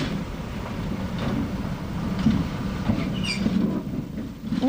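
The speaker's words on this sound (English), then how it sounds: "When the the train comes to the end of the line, the trolley is switched to the opposite end." Trolley-powered train rumbling steadily at the end of the line, a continuous low mechanical drone with faint clatter, close and fairly loud with no talk.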